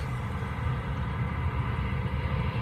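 An airplane comes in to land, its steady low jet rumble and roar droning continuously at a moderate distance without any voices.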